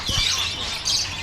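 Small caged birds chirp and tweet in a busy bird market, a dense bright twittering held steadily throughout over a low background murmur.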